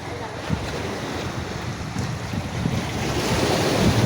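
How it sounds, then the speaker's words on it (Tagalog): Strong wind roars across the microphone while sea waves surge and wash nearby in stormy weather, a constant heavy rush that builds toward the end. "Sobrang lakas ng hangin."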